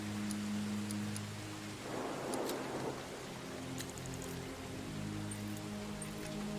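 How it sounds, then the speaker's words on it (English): Steady rain ambience from the Arkham Knight video game forms a dense, continuous wash with a low hum and faint music beneath it, holding at a moderate, even level throughout without any speech. "The rain sound effects and the vague music, what do you reckon?"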